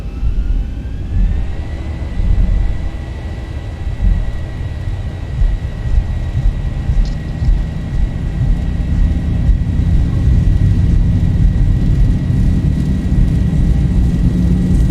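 A Boeing 737-800 on its takeoff roll in the X-Plane 11 flight simulator, a loud continuous jet engine roar with a rising tone as the engines spool up and hold, with no talk over it.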